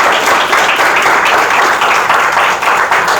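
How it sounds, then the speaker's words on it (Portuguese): Dense, loud applause from a crowd, steady and sustained throughout with no pauses. "uma salva de palmas, pelo amor de Deus"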